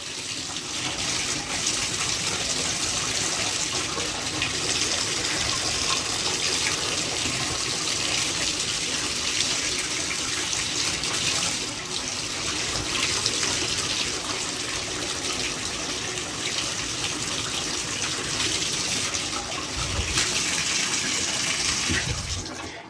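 A steady stream of running water pours from a tap and splashes onto a cheap leather glove treated with Ray Holes Saddle Butter, a continuous close gushing hiss that holds even and unbroken.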